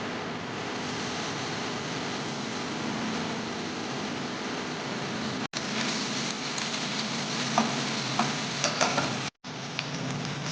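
Garlic, ginger and onion sizzle in hot oil in a pan, a steady dense crackling hiss that runs throughout with a few brief dropouts and small pops near the end, no voices.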